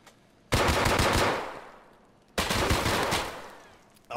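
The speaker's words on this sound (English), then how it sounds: "He also had a full auto gun." Two long bursts of full-auto gunfire in a video game, each a loud, dense rattle that starts abruptly and fades over about a second and a half, with a third burst beginning at the end.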